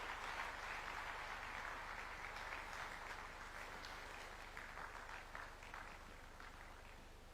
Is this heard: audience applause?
yes